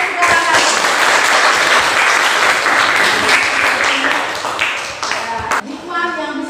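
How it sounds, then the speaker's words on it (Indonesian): A classroom of students applauds the opposing group, a steady wash of many hands clapping close by that tapers off toward the end as voices emerge. "Tepuk tangan untuk kelompok lawan sekarang."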